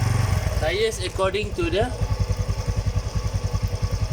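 A motorcycle engine runs in gear on a stand, its steady rhythmic pulsing putting out a close, even beat while someone talks over the start.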